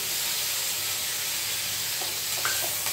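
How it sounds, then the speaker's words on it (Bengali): Poppy seed and green chili paste lands in a hot pan with a steady loud hiss and sizzle, a few faint clinks near the end. "এবারে পোস্ত দিয়ে আর কাঁচা লঙ্কা দিয়ে বেটে রেখেছিলাম, সেটাকে দিয়ে দিচ্ছি।"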